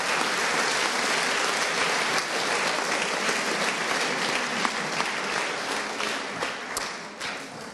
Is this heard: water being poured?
no